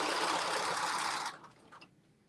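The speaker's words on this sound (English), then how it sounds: "We are sewing the Carmen top." A sewing machine runs steadily while stitching a Carmen top, a dense, continuous whir that stops abruptly partway through, leaving a few faint clicks and handling sounds.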